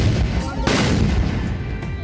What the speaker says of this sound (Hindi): तब एक आवाज और भी गूंजती है, 21 तोपों की सलामी।